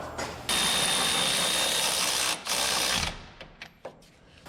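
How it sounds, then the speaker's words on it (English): A power tool spins 22 mm bolts back onto a front caliper bracket during an Infiniti wheel hub job, a loud continuous mechanical whir in two bursts, then scattered metallic clicks and clatter as it stops. "your 22 mil bolts go back on"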